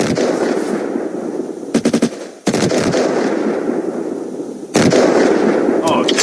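Gunfire in the video game Unturned crackles through a noisy outdoor game mix, with short bursts of rapid shots and single loud cracks scattered over six seconds, alongside some indistinct voice.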